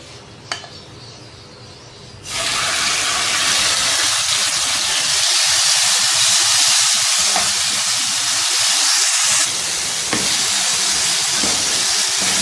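Marinated chicken goes into a pan with a tablespoon of oil over medium heat: after a quiet start, a loud, continuous, hissing sizzle bursts in and carries on with small pops.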